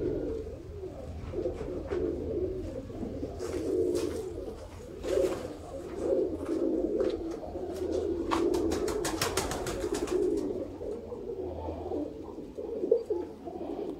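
Pigeons, Sialkoti pigeons, coo softly and repeatedly in low, murmuring calls, joined by scattered wing flutters and clicks, with no talking.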